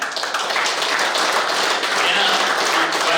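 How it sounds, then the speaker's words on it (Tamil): An audience at a motivational speech class during a kabaddi umpire clinic in Erode gives sustained, dense applause, steady and fairly loud for the whole stretch. "ஸோ அப்பாவுக்கு ஒரு மிகப்பெரிய கைத்தட்டலோட,"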